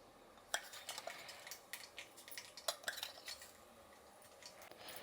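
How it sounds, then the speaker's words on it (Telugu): Mustard seeds splutter and pop in hot oil while cooking a bitter gourd curry, with scattered sharp crackles and pops coming close and irregularly, some louder bursts, with no voices. "ఇప్పుడు ఆవాలు చిట్లిపోయింది"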